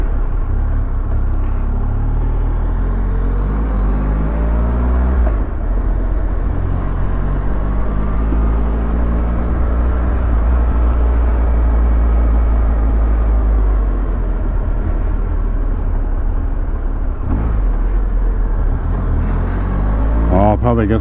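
A Triumph motorcycle ridden through the town of Carlingford rumbles loud and close, a continuous low engine drone with rising and falling revs under wind noise and someone talking.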